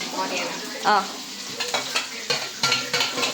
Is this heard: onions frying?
yes